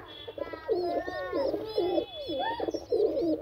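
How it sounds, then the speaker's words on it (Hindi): Several pigeons coo softly in overlapping rolling calls, close by and fairly quiet, with faint chirps mixed in. "अरे ये तो सारे बाहर निकल आए हैं कबूतर"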